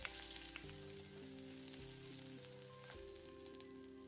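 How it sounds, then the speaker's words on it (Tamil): Onion and about ten garlic cloves roast in a pan over a low flame for horse gram chutney, giving a soft, steady sizzle under melodic background music. "இப்ப சின்னதா ஒரு வெங்காயமும், 10 பல்லு பூண்டும் இதுவும் சேர்த்து நம்ம வறுத்துக்கலாம்."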